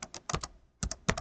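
A few quick keystrokes on a computer keyboard, close and fairly soft, in two short bursts separated by a brief pause.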